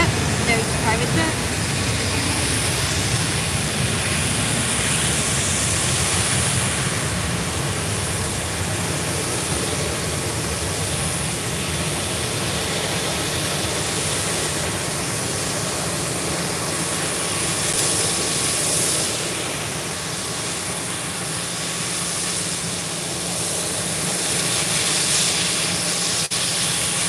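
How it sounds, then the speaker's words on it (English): Private jet engines at Málaga Costa del Sol airport, a steady broad roar that stays loud and continuous for the whole stretch, with people talking over it. "there's the private jet"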